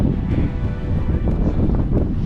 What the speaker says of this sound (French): Là, on prend du vent dans la gueule.